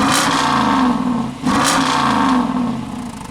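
Dodge Durango RT with a chopped-off exhaust revving hard up close, two loud throttle blips with a brief dip between them, then settling lower.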